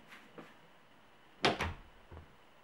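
A Porta Prima interior door closing, a soft, muffled thud with a brief second knock right after, quiet and close in a still room.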